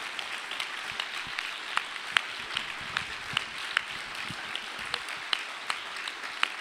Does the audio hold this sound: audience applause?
yes